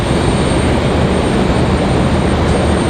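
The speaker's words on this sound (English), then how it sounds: "so we'll try to do our best to get all of the wonderful sounds of the MD" MD-11 jet engines at Raleigh-Durham International Airport give a loud, steady broadband roar that holds without letup for the whole stretch, with no talking over it.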